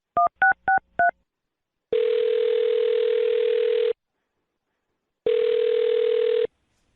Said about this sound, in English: I'll dial her phone number right now and see if we can get her on the phone